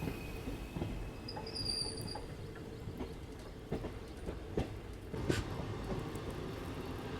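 A Harihar–Hospet passenger train running on rails in the early morning, a steady low rumble with repeated wheel clacks and a thin high squeal of wheels, no talk.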